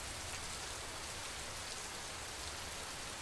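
Heavy rain pours down in the Soraba–Anavatti area of Karnataka's Malnad region, a dense, even hiss that stays constant throughout with no voices.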